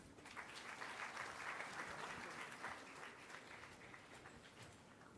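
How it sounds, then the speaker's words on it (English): Steady audience applause fills the hall at a Partition Horrors Remembrance Day gathering addressed by the Governor, continuous and fairly loud from start to finish with no voices over it. "Good round of applause."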